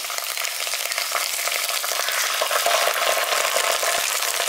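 Chicken sizzles steadily in a hot pan as tomato sauce is added, with close frying crackle and faint stirring scrapes throughout.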